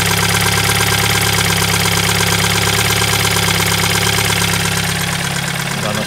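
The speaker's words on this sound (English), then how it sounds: "As you can or maybe cannot hear, the engine needs a lot of attention." A BMW Z4 engine in very poor condition runs continuously, a loud close idle with a rough, knocking rumble throughout, fading slightly near the end.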